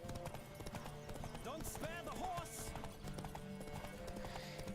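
Horse hooves clip-clop steadily at a gallop during a horse race in The Witcher 3, with a whinny in the middle and someone talking over the rhythmic hoofbeats throughout.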